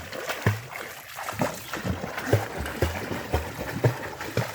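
A child swims across a village pond, with rhythmic splashes and sloshing as arms and legs strike the water, repeated strokes close to the listener, no speech over them.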